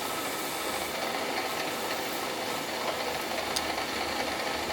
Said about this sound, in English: Here I'll stop the mill.